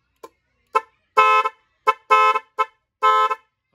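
A Nipro dual-tone car horn blares in a series of short and longer honks, loud and nearby, with brief gaps between blasts.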